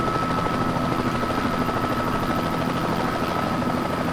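A Bell 206L3 helicopter in Microsoft Flight Simulator flies on with a steady, loud rotor and turbine drone, a constant whine riding over a rapid low chop through the whole stretch, with no voices.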